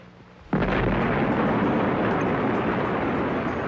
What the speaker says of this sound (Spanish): Ver la explosión de una bomba en el desierto de Nevada puede parecer hoy en día algo trivial